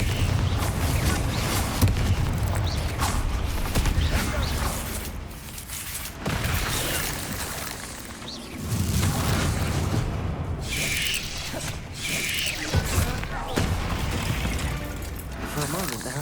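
Spell blasts from the Confringo explosion curse in a wizarding video game boom repeatedly over a busy battle soundscape, with shattering and crackling bursts, while a voice shouts over the action.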